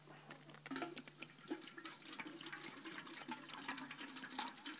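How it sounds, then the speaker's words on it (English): Watermelon wine mixture pouring into a pot, a steady liquid splashing and trickling that runs continuously at close range with a low background hum. "I'm going to pour this in the pot."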